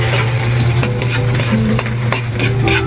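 Onion, garlic and ginger sizzle loudly in a hot pan while being stirred, steady frying hiss broken by repeated scraping strokes of a utensil against the pan.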